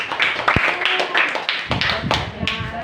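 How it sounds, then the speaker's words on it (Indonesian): Classroom of students clapping together after a group sits down, a quick burst of nearby hand claps mixed with murmuring young voices. "kasih tepuk tangan dulu."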